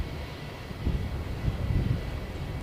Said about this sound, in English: Jetstar in from Cairns